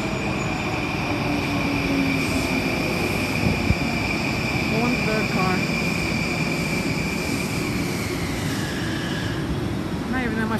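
Inside a moving M9 commuter rail car, a steady loud rumble and rolling drone of the train fills the cabin, with tonal whines and faint clicks of the wheels over track throughout.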